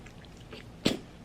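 A single short sneeze from a person at home, sharp and fairly close, standing out once against a quiet room background.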